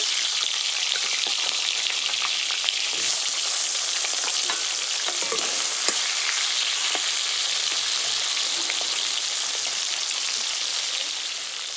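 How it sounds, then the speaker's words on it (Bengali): Ritha fish frying in hot oil, a steady close sizzle with occasional sharper crackles and pops throughout, no voices. "এবার বাকি মাছগুলো ভেজে নেব"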